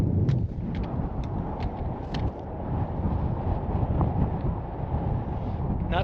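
Strong wind buffets the microphone on a hike in the Copper Bottom Pass area, producing a continuous low rumbling roar with gusty swells and no clear pauses.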